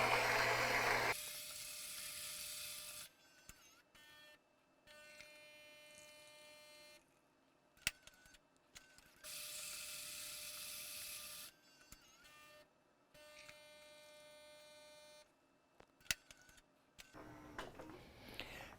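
A Gaggia Anima espresso machine makes a double espresso: loud whirring grinder bursts at the start and again midway, separated by long stretches of steady humming pump and brewing noise with occasional clicks.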